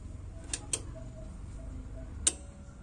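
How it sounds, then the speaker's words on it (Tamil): A relay in a Proton AV-776B power amplifier clicks: a few sharp, faint ticks in quick succession, then one more after a pause, over a quiet background hum. "ரிலே எங்கேஜ் ஆகிடுச்சு"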